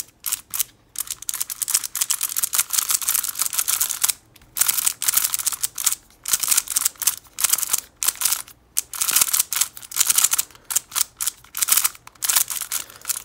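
A Xiaomi GiiKER magnetic smart cube clicks as its faces are turned, giving rapid bursts of sharp, close plastic clicks separated by short pauses.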